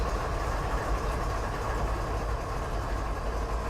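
Loud, steady train engine rumble from a train simulator video game, a continuous low droning idle with broadband noise that holds constant throughout without pause.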